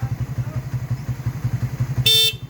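Horn of a Raider 150 motorcycle gives one short, bright, loud beep near the end, over the steady rhythmic putter of the idling engine.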